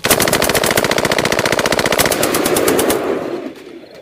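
Sustained automatic fire from an M16 rifle together with an M60 light machine gun, a loud, close, rapid rattle of shots for about three seconds that then cuts off into a fading echo.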